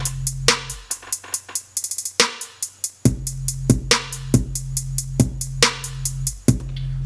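A looping drum pattern of punchy kicks with a deep bass line underneath, hits repeating in a steady, driving rhythm, loud and close.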